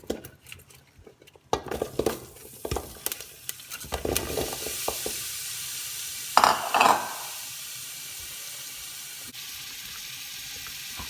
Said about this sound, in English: we're gonna add our apple, onion, and some herbs and get those caramelizing